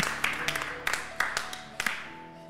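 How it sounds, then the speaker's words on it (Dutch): Applause from a live audience at a library evening event, a few sharp claps and scattered clapping swelling and fading, with voices in the background. "Applaus!"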